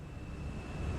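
Fenix A320 engines in a flight simulator game give a low, steady, faint rumble of jet thrust during the climb, with no speech over it.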